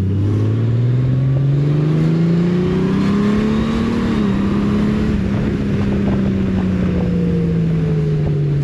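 A loud motorcycle engine hums and drones throughout, its pitch climbing then sliding down as it automatically downshifts while braking, with wind rush over the microphone.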